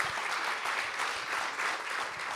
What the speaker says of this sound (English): Ladies and gentlemen, can you please put your hands together for our panelists, Miss Van Crystal Wagner and Case Maclaim.